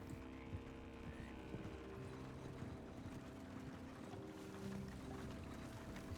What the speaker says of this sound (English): hide behind the small store here until the payroll wagon passes like I do